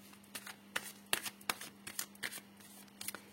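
Tarot cards are shuffled and cut for a love reading, making quiet, crisp riffling snaps in an uneven rhythm, close by over a low steady hum.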